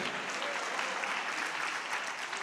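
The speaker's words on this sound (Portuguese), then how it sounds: "dê um aplauso a ele" Congregation at a church service breaking into applause, a full, steady burst of many hands clapping together, moderately loud and unbroken with no voices.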